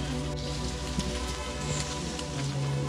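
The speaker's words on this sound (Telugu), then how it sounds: "కార్ దగ్గరనే మళ్ళీ వర్షం వచ్చేస్తుంది" Rain falling outdoors near Jhari Falls by a parked car, a dense, steady patter of drops striking surfaces, loud and even throughout without any voices.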